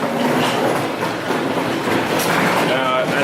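A Shinkansen bullet train rumbles and clatters through a station in Japan, wheels clacking on rails, while a person talks nearby.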